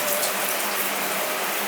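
Adjustable shower head spraying water into a bathtub, a steady broadband hiss of running spray that continues at the same level throughout, close and fairly loud with no voices.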